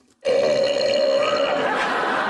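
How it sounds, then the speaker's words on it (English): A single long, loud, drawn-out burp starts abruptly after a brief quiet moment and rumbles on for about two seconds. "she burped like Rick from this show"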